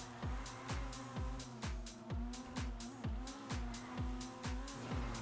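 A car in GTA 5 Online accelerates hard through repeated quick gear shifts, each one a sharp rising engine whine dropping back in a steady rhythm, loud and close with no talk.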